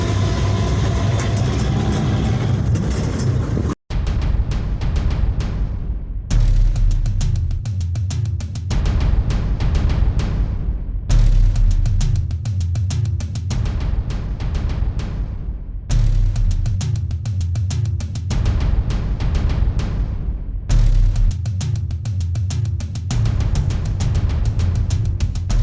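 A long roadside queue of trucks, tractors and trolleys waiting near a factory gives a steady, loud, low engine rumble that runs continuously, broken only by a brief dropout near the start.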